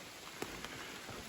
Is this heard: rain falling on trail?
yes